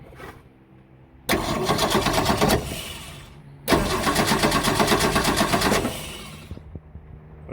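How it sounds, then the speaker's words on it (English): A 1966 Ford Mustang engine cranking on the starter, jumped at the solenoid, in two long whirring bursts of rapid rhythmic chugging separated by a short pause, close and loud, without catching. "I'm gonna jump to the start pole on this solenoid and just see if she'll fire up."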